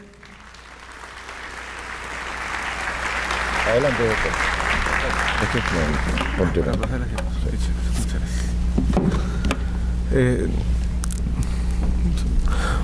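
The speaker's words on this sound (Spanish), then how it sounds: "Recibimos al doctor Sergio Domínguez, por favor, con un fuerte aplauso." Applause builds and swells from a conference audience welcoming Dr. Sergio Domínguez, overlaid by a low hum, knocks and shuffling, with a brief spoken invitation partway through.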